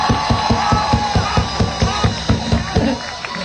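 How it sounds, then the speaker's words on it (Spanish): A crowd at a zombie walk in Mérida claps in a fast, steady rhythm of sharp, evenly spaced beats that carries on loud and close throughout. "¡El aplauso para Zombie Bomb!"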